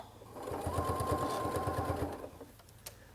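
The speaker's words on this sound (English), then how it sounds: "And then don't forget to backstitch." A sewing machine backstitches a bag seam held with large quilting pins, running in a quick, even rhythmic chatter for about a second and a half before stopping, followed by faint handling clicks.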